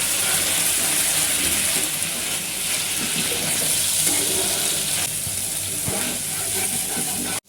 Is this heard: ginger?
yes